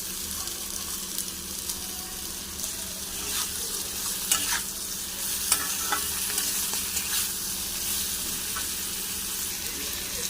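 Teasel gourd (kakrol) fries with coconut in a pan, a soft, continuous sizzle with occasional scraping stirs and clicks, quiet and close.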